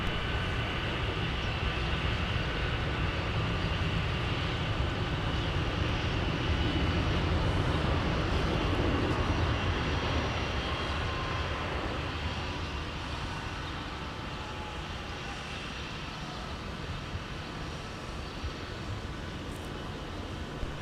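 An Endeavor airliner takes off from runway 17 at MSP airport on a winter day, producing a steady, broad engine roar that swells slightly and then slowly fades as it climbs away.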